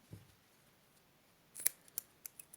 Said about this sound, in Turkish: Ve tekrar kestim.